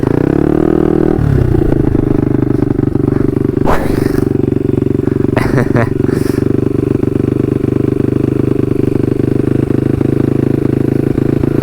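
A Yamaha RXF 150 motorcycle rides along with a loud, steady engine drone close up, roaring continuously with a few brief clattering bursts and wind buffeting midway, no talk.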